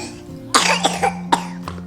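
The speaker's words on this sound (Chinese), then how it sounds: "咳嗽哦" A child with a lingering cough coughs several times in a short burst, close and sharp, with small pauses between the coughs.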